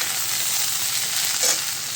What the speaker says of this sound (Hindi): और इधर कटहल भून ही रहा है।